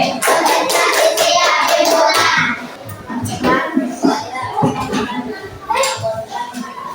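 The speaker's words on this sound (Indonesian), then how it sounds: "Tepuk konsentrasi." Children in a second-grade maths class perform a rhythmic concentration clap, sharp hand claps in patterned bursts mixed with young voices chanting and a busy classroom murmur.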